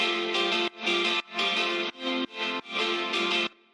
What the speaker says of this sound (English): we have this guitar playing, which is the lead guitar, sounds like this.